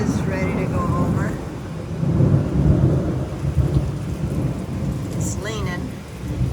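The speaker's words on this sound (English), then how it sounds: "looks like we're getting a good rain out here. Hear it?" Steady heavy rain hisses throughout, with low thunder rumbling beneath it and a voice talking over the storm from a deck.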